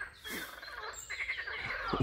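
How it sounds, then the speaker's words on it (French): Frogs croak in a loud, close chorus, with repeated rasping calls overlapping and building toward the end and no voices. "Voilà ce que font les grenouilles."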